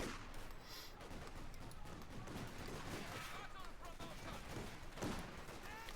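Artillery fire in the strategy game Company of Heroes 2, shells pounding continuously amid a dense battle din of gunfire and explosions, with a louder blast near the end; a commentator's voice runs under the action.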